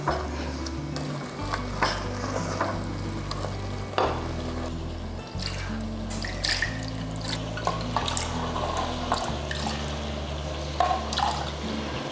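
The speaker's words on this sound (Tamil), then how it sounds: "இது எல்லாமே நம்ம ஊற்றி ஒரு வதக்கு வதக்கிடலாம்" Curry ingredients sauté in a pan for a thick meat-style gravy, a steady close sizzle with repeated scraping stirs and small liquid drips, running alone over a low continuous hum.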